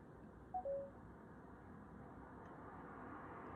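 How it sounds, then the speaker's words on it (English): A phone gives its low-battery alert: one very short two-note electronic chirp early on, faint against a quiet background hiss, followed by near silence. "that is my phone dying"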